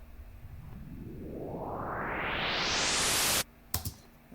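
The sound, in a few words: white noise riser sound effect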